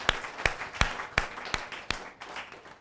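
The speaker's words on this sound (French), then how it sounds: "Je demande à l'assistance d'applaudir la mère." An audience applauds a mother during a Christmas broadcast with about six distinct, evenly spaced claps, fairly faint and roomy.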